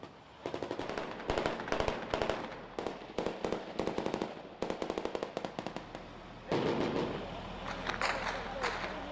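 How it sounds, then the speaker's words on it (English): Rapid bursts of gunfire crackle in repeated volleys during an ISIS attack on Iraqi forces, some distant and some sharper, with a voice speaking faintly underneath. "Now there's more incoming fire."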